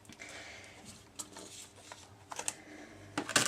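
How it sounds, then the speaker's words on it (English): A BigShot embossing machine is cranked with paper and a texture plate feeding through, giving irregular soft clicks and ratcheting ticks that grow louder toward the end, close and quiet, with no voice. "So I'm going to crank this way and just hold it down."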